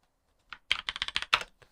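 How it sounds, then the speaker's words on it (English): A clicky mechanical computer keyboard is typed on in a quick burst of about ten sharp keystrokes, close and alone after a single lead-in tap. "Excuse the new keyboard being very clicky-clacky"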